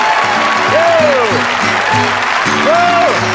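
A theater audience applauds and cheers as a comedy magician takes the stage; dense, continuous clapping fills the room loudly, with a voice speaking over it.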